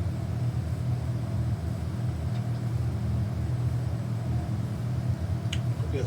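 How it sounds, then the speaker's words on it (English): A Coronado B58 aircraft engine idles in a flight simulator game after starting, with a steady low rumbling drone held throughout at moderate level. "we can go for the starter, and it's started"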